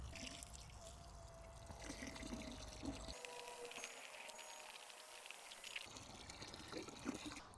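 Fresh water poured onto grass seed soaking in a container, a steady close trickle and splash with a brief change partway through as the flow shifts.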